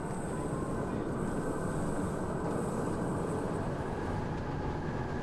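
A train travels through Norway, its rolling rumble steady and continuous, moderately quiet with a constant low rattle and no voices.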